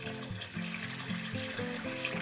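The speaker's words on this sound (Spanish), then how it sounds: "Vamos a agregar también un poco de nuestra agua tibia." Warm water being poured into chocolate tamale dough, a close, steady liquid trickle and splash running the whole moment with some low rhythmic clatter beneath, no talking.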